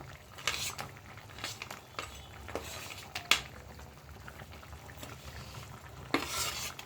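Taki fish and sun-dried lentil dumplings drop into a boiling curry, with soft bubbling and a few sharp splashes and clinks of a spoon against the pot, close by and steady.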